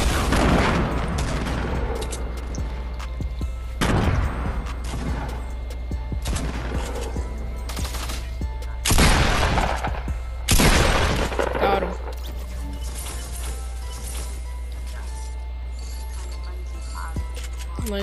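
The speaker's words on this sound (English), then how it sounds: "I'm about to throw grenades." Grenades exploding in the video game Fortnite, several loud blasts at irregular intervals with crackling gunfire and clinks between them, a voice speaking through part of it.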